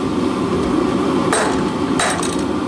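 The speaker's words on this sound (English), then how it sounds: "take your hammer and accurately blow 45 degrees on all sides" A blacksmith's hammer strikes hot metal on an anvil while beginning forging work, sounding two loud, close metallic blows spaced under a second apart over a steady hiss of background noise.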